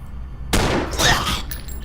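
A single loud, sharp burst of automatic rifle fire from the sci-fi game Stellar Tactics, cutting in over a quiet hum and fading off with a short tail.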